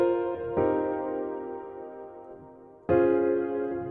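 A progression uses a suspended 4 passing chord: three sustained chords, two close together at the start and a third after a long ringing decay, clear and loud with no talking.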